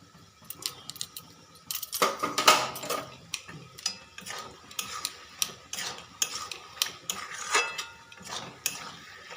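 A spoon scrapes and clinks against a pan while coriander leaves are stirred into bottle gourd and fish head curry, with irregular metallic taps and scrapes repeating close by.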